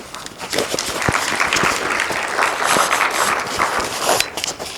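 An audience at a university climate talk applauds, a moderate spread of clapping with some sharper individual claps standing out, sustained across the whole stretch.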